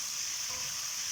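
A fish fillet sizzles in a hot frying pan, a steady, close, bright hiss of frying oil with no pauses or talk.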